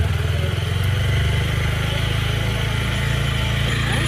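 New Apache RTR motorcycle, just started and idling close by, a steady, loud, chugging engine putter with a fast even pulse throughout.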